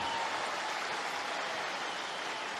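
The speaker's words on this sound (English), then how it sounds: "That's why they were applauding the aces." Crowd applauding at an Australian Open tennis semifinal, a dense, even wash of clapping held steadily at moderate distance.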